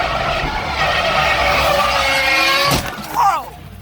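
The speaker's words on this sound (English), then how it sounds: "he is going to insert a clip of the cars banged" Drift cars skidding with tire squeal and engine noise, ending in a sharp crash impact followed by a brief screech, loud and close throughout.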